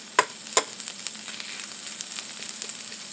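Onions and green peppers caramelize together in a hot pan, a soft steady sizzle and frying crackle with two sharp clicks near the start, moderately close and without any voices.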